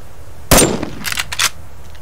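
A single sharp gunshot in the survival game Subsistence cracks loudly, followed by a couple of fainter clacks and rattles, with no talking.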